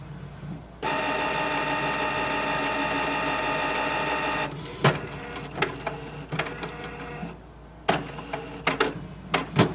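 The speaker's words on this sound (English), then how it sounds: "Wait for the printer to start and see if that fixed the error light." A Canon Pixma MG3600 printer powers up after a restart: a steady mechanical whir for several seconds, then a series of clicks, clunks and short motor grinds from the print mechanism, close by with no talk.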